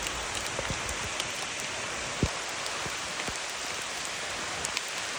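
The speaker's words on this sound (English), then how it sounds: "We're continuing our trip through the rainforest, but it started to rain." Steady rain falls in the Amazon rainforest, a dense close hiss of drops on leaves with scattered louder individual drips and no talk.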